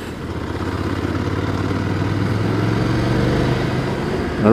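An older-version Ducati Scrambler 800 Icon with a quiet stock exhaust idles nearby, a steady low engine rumble with faint mechanical clatter that swells slightly at the end.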